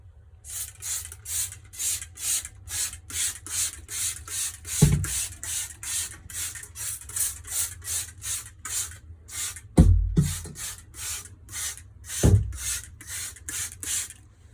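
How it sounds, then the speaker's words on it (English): Rapid rhythmic rubbing and scrubbing strokes of paper towels wiping a snake enclosure repeat steadily, with a few low thumps scattered throughout, close and without talk. "Just a quick wipe down with my paper towels."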